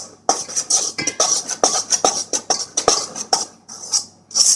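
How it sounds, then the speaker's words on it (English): Perogy dough ingredients, flour and salt, being mixed by hand with a utensil in a bowl, giving a string of close, repeated scraping and clinking strokes in a steady rhythm with no talk over them. "and we'll just mix this together."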